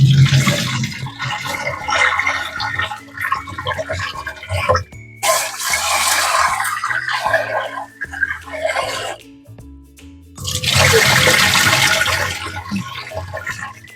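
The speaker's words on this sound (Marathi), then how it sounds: "मी 2 ते 3 वेळा व्यवस्थित स्वच्छ अशी डाळ धुवून घेणार आहे" Tap water runs and splashes in bursts while lentils (dal) are rinsed for a spinach dal, with loud gushing stretches and quiet gaps between them.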